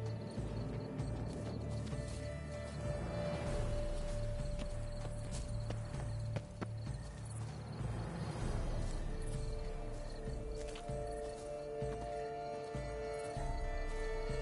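Hooves of a horse clip-clop steadily in a dense, noisy outdoor setting, with a continuous background hum and no clear talk.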